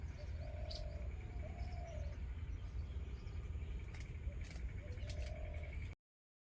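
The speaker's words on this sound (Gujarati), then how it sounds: "પંખીડાનો અવાજ પણ કેવો સરસ મજાનો આવે છે" Birds in a farm orchard, mostly pigeons or doves giving soft repeated coos, with scattered chirps above a constant low outdoor rumble.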